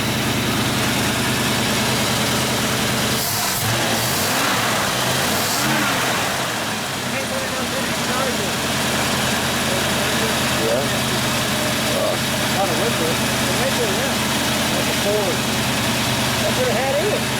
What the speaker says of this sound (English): That's a 400-inch Windsor motor.